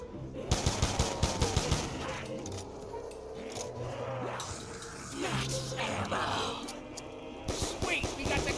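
Rapid bursts of gunfire cutting down zombies in the Call of Duty Mob of the Dead zombies map on the gondola, several loud runs of shots with quieter gaps of game noise between them.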